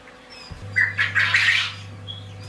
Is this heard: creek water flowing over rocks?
no